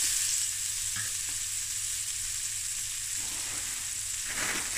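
Two sliced jalapeños fry in nutty browned butter and olive oil, a dense, steady sizzle heard up close, with a couple of light clinks and stirring sounds along the way.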